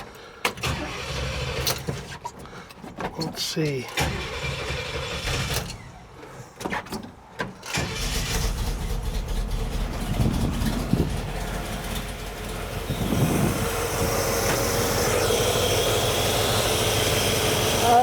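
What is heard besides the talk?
small engine with carburetor starting and running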